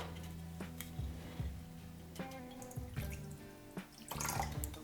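Iron liquid is poured into a natural dye bath, giving faint trickling and dripping water with small splashes and clinks, quiet and close.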